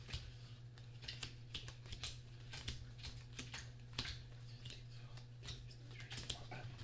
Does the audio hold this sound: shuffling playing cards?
yes